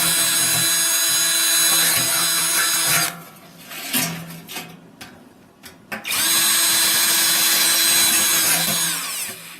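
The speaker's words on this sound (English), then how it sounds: "So we've worked our way up to a 7/32 drill bit" A power drill with a 7/32 bit whines loudly while boring a hole, stops briefly for a few clicks and knocks, then starts up again and runs steadily.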